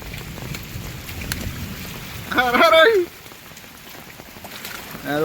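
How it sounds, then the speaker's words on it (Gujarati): Steady heavy rain falls outdoors during a downpour, a constant broadband hiss throughout, with someone briefly speaking over it midway. "વરસાદ હજી ચાલુ જ છે"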